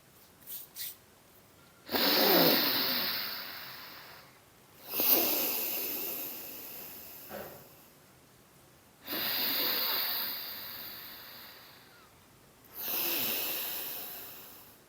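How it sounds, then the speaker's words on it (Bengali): Slow, deliberate alternate-nostril breathing, long hissing inhales and exhales alternating with pauses of near silence, close and fairly quiet. "ডান দিক থেকে নিঃশ্বাস নেবেন আর বাঁ দিকে ছাড়বেন"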